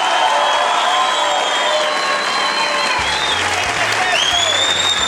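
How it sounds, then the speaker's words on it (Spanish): A studio audience on a television tribute show applauding loudly and steadily, a dense wash of clapping with some crowd noise, while background music comes in near the end. "Miren el aplauso fuerte a Tato"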